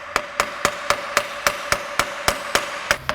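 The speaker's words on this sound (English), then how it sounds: "I like to just tap around the outside of it with a hammer" A hammer taps sharply around the outside of a U-joint in a steady, even rhythm, about a dozen metallic knocks in quick succession, close and distinct with no talking.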